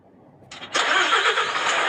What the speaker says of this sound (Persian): ماشین روشن میشه